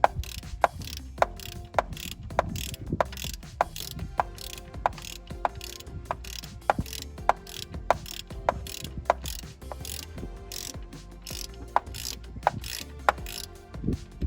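Rapid, regular clicking of a ratcheting wrench working loose a temperature sensor on a 2016 Chevy Silverado truck, dozens of close, crisp ratchet ticks in a steady rhythm.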